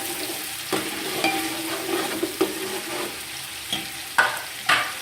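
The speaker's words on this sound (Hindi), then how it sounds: "हमने तकरीबन 1 अदद चॉप किया हुआ प्याज वो डाल देंगे" Chopped onion frying in hot masala in a pan, a steady moderate sizzle with occasional sharper crackles and a few light clinks of a stirring spoon.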